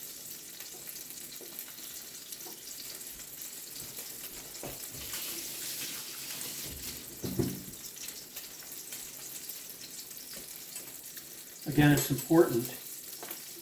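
A crab cake patty frying in a hot pan gives a steady soft sizzle throughout, with a few louder clatters and bursts near the end and brief speech over it.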